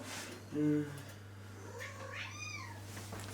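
A pet cat in a home kitchen meows to be let outside: one short, fairly loud meow near the start, then a second longer, wavering cry a moment later over a steady low hum.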